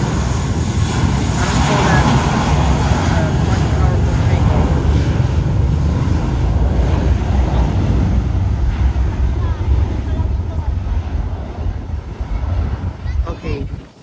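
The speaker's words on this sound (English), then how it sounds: "looks like it's gonna go for a little bit of a powerful takeoff" Boeing 737 jet taking off at San Juan airport: a loud, steady broadband engine roar with wind buffeting the microphone, holding strong for most of the stretch before easing off in the final seconds.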